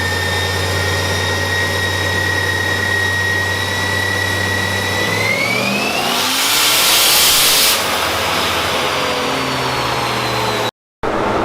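A turbocharged Mopar car engine idles, then revs up sharply in a loud, rising surge with a rushing burst before settling back down, close to the microphone on a cool, brisk morning.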